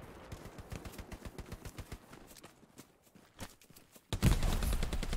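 Machine gun fire in a Hell Let Loose battle rattles out in rapid, evenly spaced bursts, fairly distant and dry, then fades before a sudden louder, heavier blast of gunfire closes the stretch.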